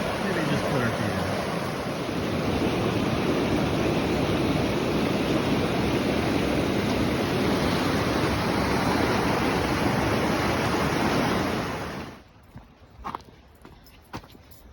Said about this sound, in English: Coming up on the Devil Track River, and I think we're gonna either put our feet in or maybe take a little dip here.